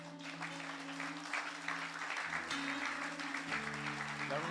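A church congregation applauds during a Holy Communion service: sustained, fairly distant clapping over steady keyboard chords that shift partway through.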